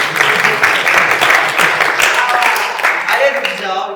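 Applause from a small group fills the moment, dense continuous clapping with some talking mixed in, steady and fairly loud for a few seconds.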